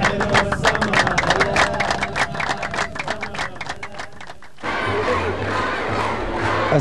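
A crowd at a 1997 concert in Tunisia makes dense, rapid rhythmic clapping and shouting. It breaks off and gives way to a steadier crowd roar with a low hum beneath.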